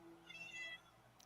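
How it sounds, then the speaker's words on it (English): Gracie the cat lets out a single thin, plaintive meow for food, quiet and close, followed by a faint click. "Her little pitiful meow"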